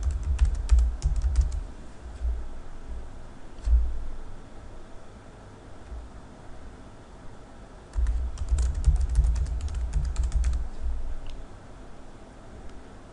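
Domain credentials being typed on a computer keyboard, with two close bursts of quick key clicks separated by a pause and a few isolated taps between them.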